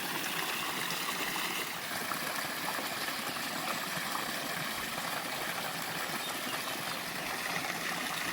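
A steady, continuous rush of stream water runs close and moderately loud without a break, a broad even flow with no talk, where shoes are being washed outdoors.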